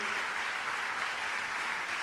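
At a devotional gathering, an audience applauds an award recipient being honoured, giving a steady, fairly faint wash of clapping with no let-up.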